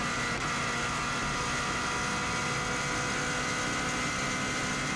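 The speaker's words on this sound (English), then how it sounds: "As you can hear from this car, it does sound amazing, and it's also revving quite a lot higher than the previous car." Turbocharged engine of a 2016 Subaru WRX STI driven flat out on the Isle of Man TT course, a loud, sustained high-revving roar heard from inside the car, steady and unbroken with no voices.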